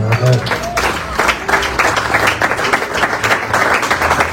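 A church congregation claps and cheers in acclaim, a dense sustained burst of applause filling the room, loud and continuous, with a voice briefly heard near the start.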